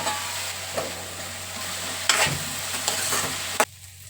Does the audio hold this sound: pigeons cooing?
no